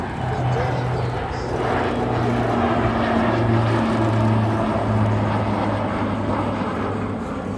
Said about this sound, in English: This is about as slow as you can go in formation in two PC-12s. The dirty pass.